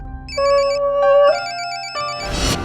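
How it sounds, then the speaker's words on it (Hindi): A phone ringtone plays a bright electronic melody of repeated beeping tones, loud and close, with a brief rustle at the end. "सर आपका फोन बज रहा है सर।"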